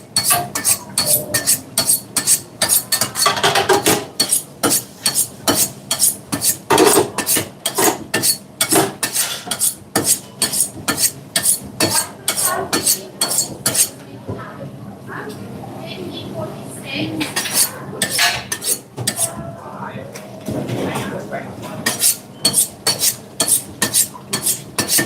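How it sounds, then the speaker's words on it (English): A kitchen knife is sharpened during behind-the-scenes kitchen prep, with rapid repeated metallic scraping strokes in a steady rhythm, a brief pause midway, then more strokes, close and fairly loud over clattering kitchen background. "I'm just sharpening my knife."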